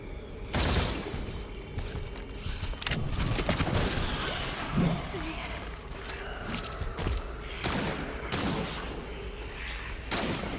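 Several loud, sharp gunshot blasts in the video game Scars Above ring out at irregular intervals over a constant rumbling background of game noise, close and punchy.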